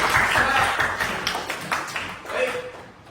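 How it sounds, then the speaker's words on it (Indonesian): Schoolchildren clap in a classroom, a dense close patter of hands that swells early, eases, and briefly rises again near the end, with voices mixed in. "tepuk tangan untuk kalian"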